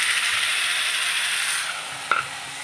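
Onions and spice paste fry in a pan with a bright, steady sizzle that eases off midway, then a short scrape or clink of a spoon near the end; no talking.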